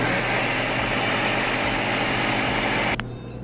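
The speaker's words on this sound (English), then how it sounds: "It has this like vacuum seal thing, so it like takes the air out of your smoothies and makes them fresher." A vacuum-seal smoothie blender runs with a steady, loud motor whir and hum, then cuts off abruptly near the end.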